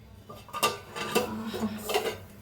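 A metal lid lifted off a cooking pan on the stove during preparation of a fasting-day meal, a few close clanks and scrapes of metal on metal in quick succession.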